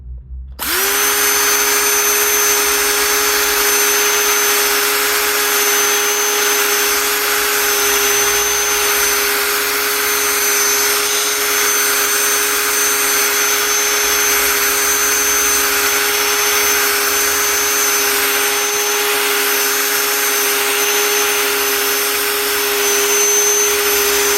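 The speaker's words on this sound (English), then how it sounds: "we've got the hand drill hone. So you put the hone in there, and you just start drilling" A continuous, loud whirring drone of a hand drill running a cylinder hone in a Chevy 350 engine block, holding an even pitch for the whole stretch.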